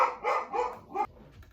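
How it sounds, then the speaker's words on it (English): A dog barks indoors in a room where someone is filming a granny square crochet tutorial, giving about four close, loud barks in a quick sequence followed by quieter whimpering noises. "You don't need to bark."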